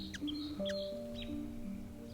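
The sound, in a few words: small birds chirping in a garden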